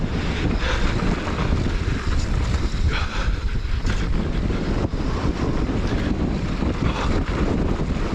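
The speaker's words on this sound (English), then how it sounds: "Oh, whoa, that's windy across there." Strong wind blasts across an exposed spot on a long downhill mountain-bike track near Queenstown, producing loud, steady, rumbling gusts and microphone buffeting throughout, with no voices.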